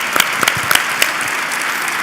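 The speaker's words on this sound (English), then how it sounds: "So just a round of applause for you guys." Short burst of audience applause at a corporate awards event, with several distinct nearby claps standing out over a thinner spread of clapping in the room.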